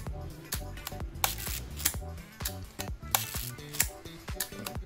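A Yashica Electro 35 film camera is fired again and again, producing a quick series of crisp mechanical clicks and snaps spaced irregularly, close and clear against a quiet background.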